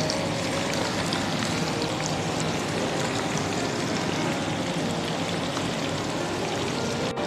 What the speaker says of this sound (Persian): این قلقلی‌ها رو باید کامل با حوصله داخل روغن غوطه‌ور کنید و کامل تفتش بدید.